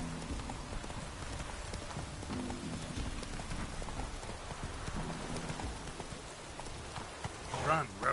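Horse hooves clip-clop and gallop in the Witcher 3 video game, a rhythmic patter under a rain-like wash, with a voice speaking briefly over it.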